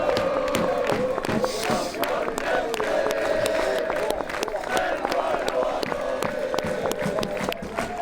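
Football players and fans applaud after a match, with steady, dense clapping and scattered cheers and voices from a crowd throughout.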